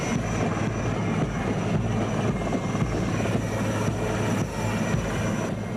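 A helicopter flies steadily with a rumbling rotor drone and fairly even beating, continuous and moderately loud for several seconds with no voices.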